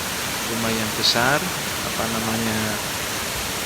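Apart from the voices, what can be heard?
Sekar Langit waterfall flowing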